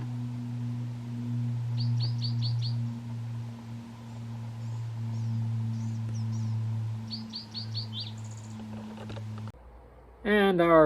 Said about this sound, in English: quite a few birds calling in the trees